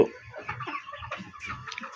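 Domestic deshi chickens cluck in a short run of soft, close, irregular calls, several birds overlapping with no voices.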